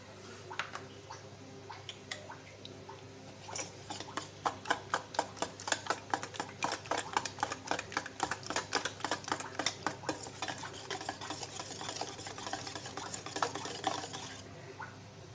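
Four eggs and sugar beaten by hand in a bowl, with a quick, steady clatter of a whisk or spoon scraping and tapping the bowl for about ten seconds, close and fairly loud, with no talking.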